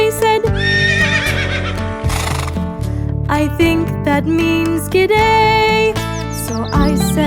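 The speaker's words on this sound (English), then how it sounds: "I stopped when I saw some horses to see what they would say." Horse neighs and whinnies woven into a sung children's tune, with loud music and singing running continuously over the whole stretch.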